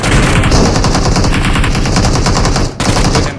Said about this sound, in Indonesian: Itu orang itu nembak dari atas tuh.